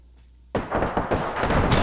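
Frag grenade explodes in Apex Legends gameplay, a sudden loud burst after a quiet moment, followed by crackling, rumbling debris and scattered gunfire-like impacts.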